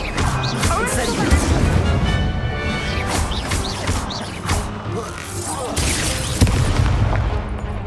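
Fire spell cast in Hogwarts Legacy amid busy combat, with crashes, booms and whooshing magical impacts layered over continuous game music and effects, loud throughout with a few sharper hits.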